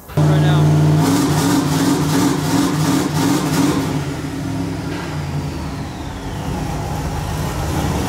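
LS V8 swapped into a Mazda RX-7, revving hard on a dyno in third gear: a loud, strong engine note that rises sharply and sustains, with stuttering pulses mid-run as it settles, and a voice speaking over it.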